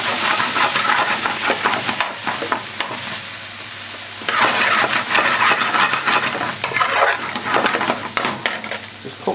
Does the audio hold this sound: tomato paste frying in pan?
yes